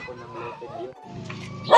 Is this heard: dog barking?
yes